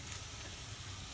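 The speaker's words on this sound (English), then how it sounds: "I'm frying all the spices and onion, vegetables, everything using pure desi ghai ka ghee." Onion, bay leaf, cloves, black cardamom, cumin, ginger and chilies frying in pure desi ghee for vegetable pulao, giving a steady close broadband sizzle that holds evenly throughout with no talk.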